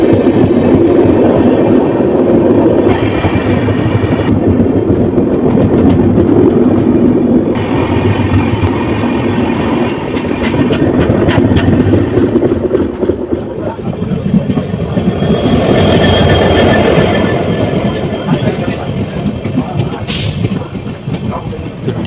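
A New Delhi–Dibrugarh Rajdhani Express hauled by a Tughlakabad WAP7 electric locomotive overtakes a moving intercity passenger train, heard from inside a general coach as a loud, continuous rumble and rattle with rising and falling rushes of passing carriages.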